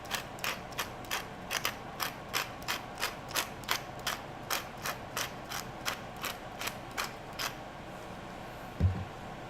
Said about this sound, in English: I think we got a jam in our peppercorn grinder